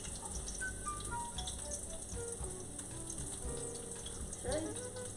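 Minced garlic frying in hot oil in a pan while being stirred for shrimp alfredo, a constant soft sizzle with scraping and clinking of the utensil, a little louder near the end.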